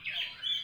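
A white-rumped shama (murai batu) gives a short, bright chirping call, close and clear, with no one speaking over it.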